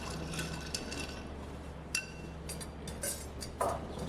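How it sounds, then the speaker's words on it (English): Food stirred in a pot, with faint scattered clinks of a utensil against cookware heard over a steady low hum, quiet and intermittent. "Let's stir that up."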